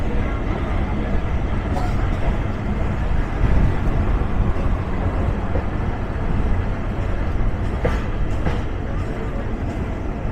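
A Nakshikatha commuter train runs on the Dhaka–Mawa rail line toward Mawa station in Munshiganj, heard from on board as a loud, steady rumble and clatter that continues for the whole ten seconds.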